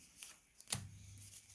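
Card shuffling effect from a Yu-Gi-Oh video game, a short quiet riffle of cards with a few soft flicks and a small thump, about a second and a half long.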